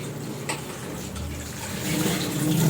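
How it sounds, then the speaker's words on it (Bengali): Cut broccoli being rinsed under running water, a continuous splashing wash that grows a little louder toward the end, with no voices. "একটু জল দিয়ে ধুয়ে দিই।"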